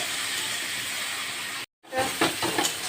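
Prawns fry in hot oil with a loud, close, steady hiss that cuts out for a brief moment, then returns with sputtering crackles and spits.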